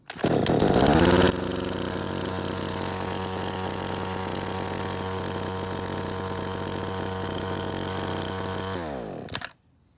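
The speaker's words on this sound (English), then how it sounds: "when you're operating a chainsaw" A chainsaw engine sputters to life with a loud burst, then runs at a steady, droning idle for several seconds before cutting off abruptly.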